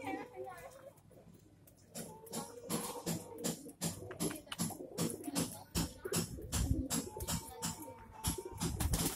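Kasni pigeons, an old Indian breed kept in pairs, coo in a low repeated rhythm close by, with a steady series of soft pulses building louder toward the end while people talk over them.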